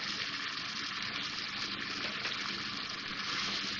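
About two tablespoons of water going into frying tomato-spice masala for a paneer curry, heard as a continuous close hiss and bubbling sizzle with no talking.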